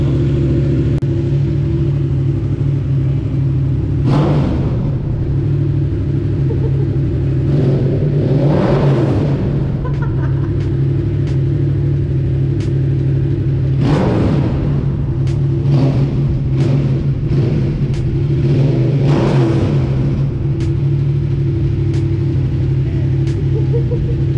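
A Yamaha XSR700 motorcycle fitted with an Akrapovic exhaust idles with a steady rumble, punctuated by several sharp throttle blips and revs up close.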